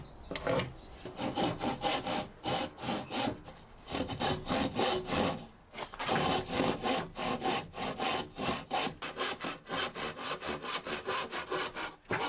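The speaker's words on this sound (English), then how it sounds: "I had to cut off the ends of the other beams" A hand saw cuts through a wooden greenhouse roof beam in a rapid, rhythmic back-and-forth rasp that continues steadily, close and fairly loud, with no talking.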